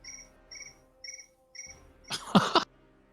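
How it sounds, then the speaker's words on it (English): Four evenly spaced cricket chirps ring out clearly against near silence, each a short bright trill. A loud burst of rough, cough-like noise then cuts across the last of them. "I'm hearing crickets."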